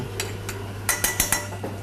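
Thinly sliced shiitake mushrooms being stir-fried in a pan, with a few sharp metallic clinks and scrapes of a spatula against the pan over a faint background hum.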